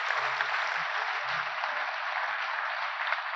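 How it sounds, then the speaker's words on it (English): Applause at a 2020 state agency recognition awards ceremony, a steady wash of clapping that runs the full length, with a few faint low murmurs underneath. "let's give ourselves a round of applause"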